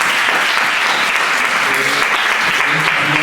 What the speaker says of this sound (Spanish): vamos a darle un aplauso por favor